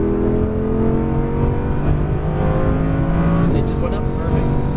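An Audi R8 V10 Plus on a race track, its engine droning loud and steady from inside the car with a rising, layered tone, while a voice talks over it.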